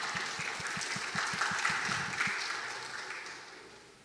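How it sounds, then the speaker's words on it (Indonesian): An audience at an Indonesian youth rally claps in a brief round of applause that starts with distinct claps, swells, then fades away. "Tepuk tangan dulu dong untuk..."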